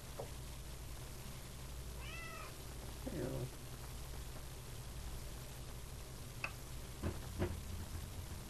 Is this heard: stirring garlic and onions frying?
no